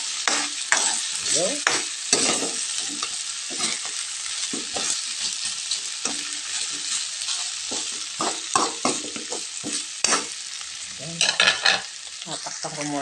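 Chicken feet sautéing in a pan, with steady bright sizzling and repeated scraping and stirring strokes throughout, loud and close; one brief word is spoken.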